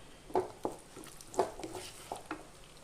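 A few soft scraping stirs of masala in a pan with a light sizzle underneath, irregular strokes close by and fairly quiet.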